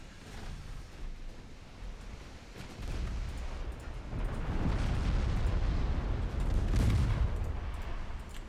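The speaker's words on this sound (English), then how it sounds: "Torpedoes away." Torpedoes launched from warships in a naval battle game, heard as a rumbling wash of bursts and surging water noise that builds and stays loud across the clip.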